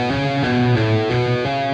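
Electric guitar played legato with one pick stroke per string, a short run of smoothly connected, mildly overdriven notes rising and falling, played alone at steady volume.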